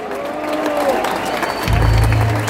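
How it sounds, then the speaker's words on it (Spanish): A theater audience at a rock recital in Buenos Aires claps and cheers loudly, with some crowd noise, and a low bass tone swells in partway through beneath the applause. "fuerte aplauso para Claudio"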